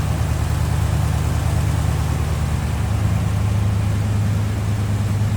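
A 1954 Ford F-100 Stepside pickup with a 239 cubic inch Y-block V8 and three-speed manual idles steadily up close, its low, even rumble holding without a break.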